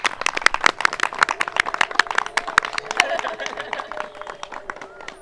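An audience applauds after a short film screening, with dense, uneven clapping from many hands that thins out toward the end while voices talk and chatter underneath.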